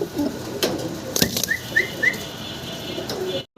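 Fancy pigeons flap their wings close by in a few quick, sharp bursts. Soft whistling chirps come in between the bursts, over low background noise.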